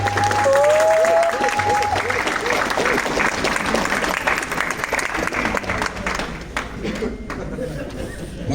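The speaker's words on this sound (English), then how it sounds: "get those folks in the back of the room a round of applause" Applause fills a graduation ceremony hall as the audience claps for program staff at the back of the room, dense and steady throughout with a crowd murmur underneath, tapering slightly toward the end.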